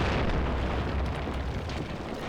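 Incendiary mortar strike in a Graviteam Tactics battle, a heavy rumbling explosion that fills the whole moment with dense, roaring low-end blast noise and crackling debris, loud and sustained, with no voices.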